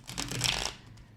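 A deck of tarot cards being shuffled by hand, a quick riffling burst of papery slaps that swells and then fades out, close and alone with no talking.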